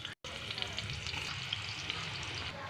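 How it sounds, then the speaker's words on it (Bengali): Thinly sliced onions hit hot oil in a pan for a Nepali-style chicken dish, giving a loud, dense, continuous sizzle with crackling spatter and occasional stirring, no voices. "এবার এই তেলের মধ্যেই পেঁয়াজগুলো দিয়ে দেবো।"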